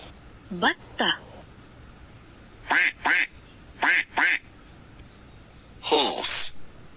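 A duck quacks in short harsh bursts, mostly in close pairs with pauses between, ending in a longer rasping run of quacks, loud and near against a quiet background.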